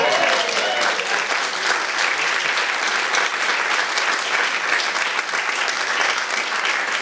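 Audience applause at a magic show in a theatre playhouse, steady dense clapping from a crowd throughout, loud and continuous with no break.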